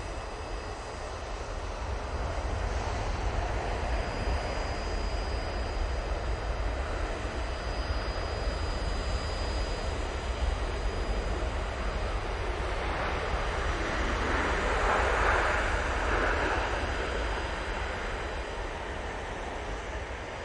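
An airliner at Manchester Airport roars as a broad, steady engine rumble and rushing noise throughout, swelling slightly near the middle, with wind buffeting the microphone outdoors.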